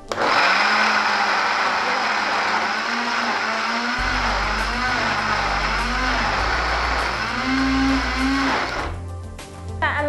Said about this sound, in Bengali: এখন আমি ব্লেন্ডারে ব্লেন্ড করে নিচ্ছি।